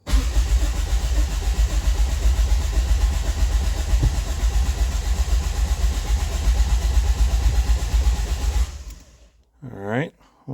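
A turbocharged Toyota Paseo convertible engine cranks and runs roughly for about nine seconds, loud and close, then cuts out abruptly, followed by a brief rising whine and short noise.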